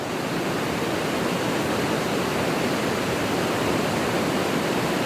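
Steady, even rush of a waterfall at Ajodhya Pahar in Purulia, a broad continuous hiss that holds level for the whole stretch with no voices or other breaks.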